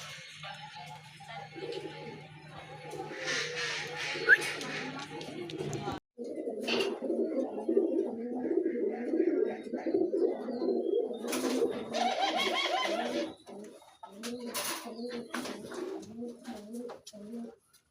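Pigeons kept for sale coo in repeated low, throaty rolling phrases close by, with a few sharper calls and someone talking over parts of it.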